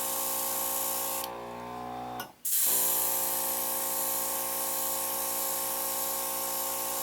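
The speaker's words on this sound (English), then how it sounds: "I'm going to start off with this Yet Candy Yellow as a base coat" Aerosol candy yellow base coat sprayed onto a diecast car: one close, steady hiss of about a second, cut off abruptly, with no talking.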